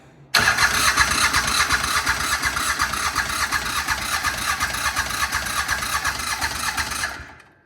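Engine on a homemade vertical log splitter cranks and catches, running with a rapid, steady chugging pulse at close range for several seconds before cutting off abruptly.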